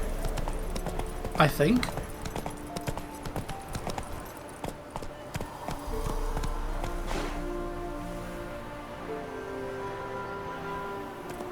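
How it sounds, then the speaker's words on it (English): Roach, the horse in The Witcher 3, gallops with rapid rhythmic hoofbeats against in-game ambience, steady and fairly close, while someone talks over the start. "Giddy up."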